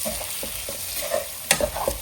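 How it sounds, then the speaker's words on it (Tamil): Fried prawns being stirred into an oily prawn pickle, a short run of wet spoon scrapes and soft knocks over a gentle sizzle, close and alone without talk. "ஃப்ரை பண்ணி வச்சிருக்க ப்ரான் அதையும் போட்டு நல்லா மிக்ஸ் பண்ணிடலாம்"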